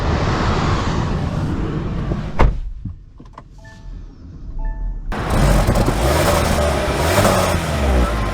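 A 2024 Kia Seltos X-Line Turbo with a turbocharged engine, heard from inside the car: a broad rumble that fades, a short quiet stretch with a thud and faint electronic tones, then steady, loud road and engine noise.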